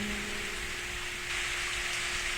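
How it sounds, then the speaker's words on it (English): Steady rain falls in the Steins;Gate video game, a continuous even hiss of rain on surfaces with a faint low tonal hum beneath and no voices. "I suddenly hear the sound of rain. I look outside the window and see that rain has started to fall."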